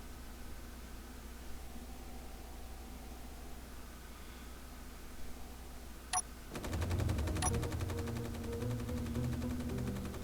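Incoming fire in Space Engineers: a low, steady hum, then two sharp metallic cracks, after which a rough, buzzing rattle of sustained fire takes over and keeps going. No one speaks.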